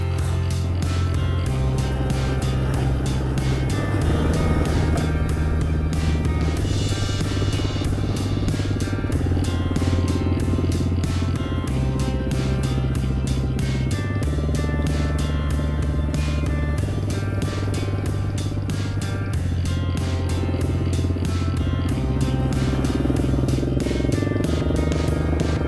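A dual sport motorcycle on knobby tires stuck on a wet trail, its engine loud and close, revving up and down in repeated surges with a steady rumbling drone.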